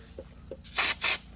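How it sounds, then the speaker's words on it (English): Can of brake cleaner sprayed inside an oil filter housing on a 2014 Jeep Grand Cherokee 3.6L V6, two quick hissing bursts after a couple of faint clicks, close and fairly quiet. "Just get your brake can and then just spray inside"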